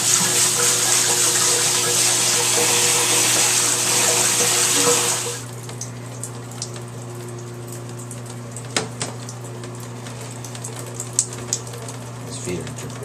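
Tap water pours steadily for about five seconds to fill a bath for Riley, a sick dog, then cuts off, leaving a quiet room with faint hum and occasional small knocks and drips.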